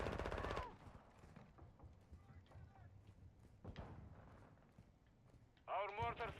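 Sentry gun turret in Call of Duty Warzone 2 letting off short bursts of automatic fire, one loud burst at the start and another mid-way, heard beneath frequent voice chat and game radio talk.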